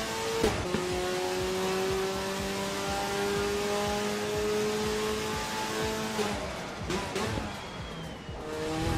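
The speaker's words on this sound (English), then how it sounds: "nice little squeal from the brakes" Race car in the Assetto Corsa EVO sim racing game, engine droning with steady harmonic tones, then a brief squeal from the brakes near the end amid shifting engine noise.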